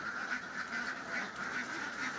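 Peking ducks in a pen give a steady, overlapping run of nasal quacks, moderately near and continuous with no pauses, a flock sound without talk.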